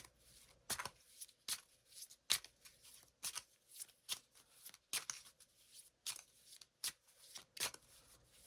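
A deck of affirmation cards being shuffled by hand, giving repeated crisp riffling bursts at an irregular rhythm, close and fairly quiet, with no talking.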